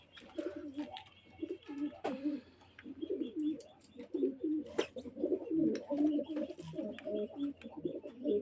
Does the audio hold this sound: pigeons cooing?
yes